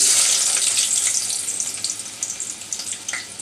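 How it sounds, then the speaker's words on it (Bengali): Chopped onion hits hot oil and sizzles loudly up close, a bright hissing fry that settles into crackling, spitting pops as it continues. "এবার পরিমাণ মতো তেল গরম করে নিয়েছি। এখানে দিয়ে দিব আমি অল্প পরিমাণে পেঁয়াজ কুচি"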